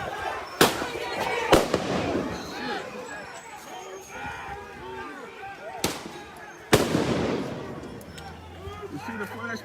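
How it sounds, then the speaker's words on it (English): Flashbangs burst at a Capitol Hill street protest in Seattle, several sharp loud blasts at irregular intervals over a dense crowd roar, with shouting and talk throughout. "You see the flashbangs?"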